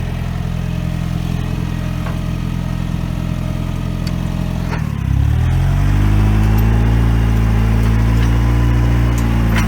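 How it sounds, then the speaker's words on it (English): A truck loaded with skids drives into muddy ruts, its engine rumbling loudly at a steady idle before revving up with a surge of low-pitched strain that holds for several seconds. "I'm going to try to drive this through those muddy ruts."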